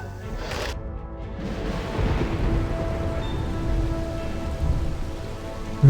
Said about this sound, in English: Really nice rain animation.